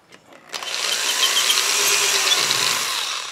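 A power screwdriver tightens a spoke on a motorcycle wheel being laced, a brief click then a steady close whirring drive that holds for about three seconds before tailing off.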